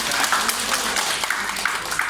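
Steady, dense applause from a crowd at the inauguration of the 2026 national lottery, filling the whole moment with continuous clapping and no talking.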